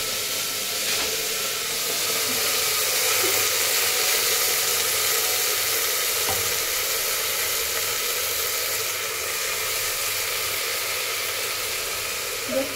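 Washed jute leaves hitting hot oil in a pan give a steady, loud sizzling hiss that continues evenly throughout, with faint kitchen clatter.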